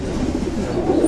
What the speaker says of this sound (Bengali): তো চলুন আগে আপনাদের আমি আমাদের কবুতরগুলো দেখাই।